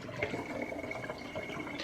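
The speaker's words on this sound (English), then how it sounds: "Go ahead and drain all that water out." Hot water drains from a pot, pouring and splashing steadily, a continuous liquid rush with small gurgles, close by and moderately loud.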